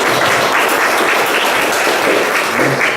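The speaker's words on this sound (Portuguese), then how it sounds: "uma calorosa salva de palmas de" A church congregation gives a warm round of welcoming applause at the start of a Catholic celebration, loud, dense clapping sustained evenly throughout.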